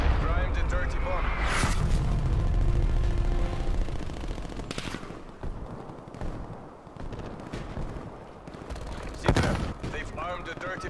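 Artillery fire and explosive bursts boom and rattle in a video game's battle, dense and loud throughout, with several sharp blasts standing out and game voice lines talking over the din.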